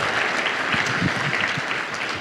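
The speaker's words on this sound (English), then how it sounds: "Give yourselves a round of applause" A conference audience applauds at an opening session: steady, dense clapping from a large crowd throughout, moderately loud and continuous without a break.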